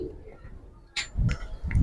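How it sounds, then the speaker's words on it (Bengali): Pigeons in a pigeon house give a couple of soft, low coos close by, short and rounded, over a quiet background. "কবুতরটা কিন্তু অনেক সুন্দর একটা কবুতর"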